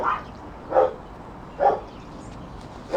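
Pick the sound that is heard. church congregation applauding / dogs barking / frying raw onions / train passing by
dogs barking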